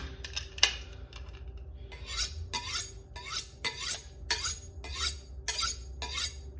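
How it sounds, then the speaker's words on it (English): A kitchen knife blade is honed with about eight steady, rhythmic scraping strokes along the steel, each one a bright rasping swipe heard close and clear, with no talking. "first we're gonna hone our knife."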